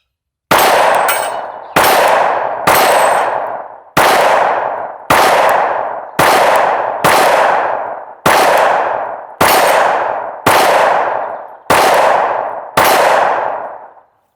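A Sig Sauer P365 pistol fires Sig 124 grain practice rounds outdoors, eleven sharp, loud reports at irregular intervals of about one second, each ringing out and decaying before the next.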